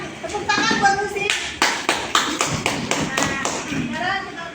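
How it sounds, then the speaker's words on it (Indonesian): Schoolchildren in a classroom clapping hands for a classmate, a short run of distinct claps of uneven rhythm, following and overlapping talk from a teacher and children. "sekarang tepuk tangan buat Lucy"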